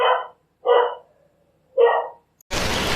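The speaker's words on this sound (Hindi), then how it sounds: "अरे कौन भौंक रहा है ये बदतमीज?" A dog barks three times nearby, loud and sharp, with short pauses between barks, followed by a burst of broadband noise at the end.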